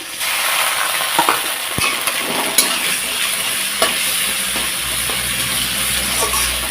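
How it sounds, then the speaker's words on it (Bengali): Chana dal fried with ginger and cumin paste for a taro-leaf dish, giving a loud, steady sizzle and hiss, with occasional scraping clicks from stirring and no voices. "সেদিকে আমার ডালটা সুন্দর একটু লাল লাল করে ভেজে নিলাম এখন এর মধ্যে আমি যে বাটা মশলাটা রেখেছি আদা বাটা জিরে বাটা এটা দিয়ে দেবো"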